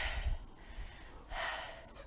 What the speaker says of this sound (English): puffing and panting